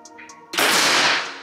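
A Greyhound T-Rex Classic air rifle fires a single pellet: one sharp, close crack with a short hissing tail, after a moment of quiet.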